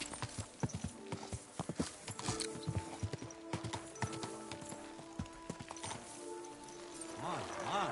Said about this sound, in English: What a beautiful horse.